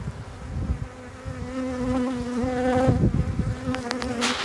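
Sazkatraz honey bees fan their wings around a newly introduced queen, making a dense, steady buzzing hum close by with no break.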